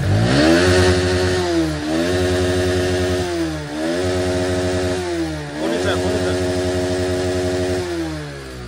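A motorcycle engine revs up several times in a row, each loud rise in pitch easing back before the next burst.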